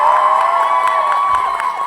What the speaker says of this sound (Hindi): अब बीच वाली रो सिर्फ तालियां बजाएगी, बताइए कैसा लगा।